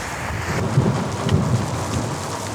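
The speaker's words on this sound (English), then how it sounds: "One gigantic rainstorm, a deluge took place." Heavy rain pours steadily in a dense wash of noise while low thunder rumbles swell beneath it, with no voices over the storm.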